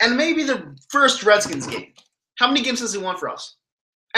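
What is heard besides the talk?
No everyday noises stand out.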